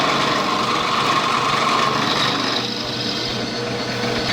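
A steady, fairly loud machining hum with a light cutting whine runs continuously as a metal lathe or mill takes very light cuts on Stuart 10V steam engine castings, with no talking.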